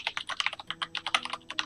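Rapid clicking keystrokes on a computer keyboard, an irregular quick patter of light taps, close and clear with no talking over them.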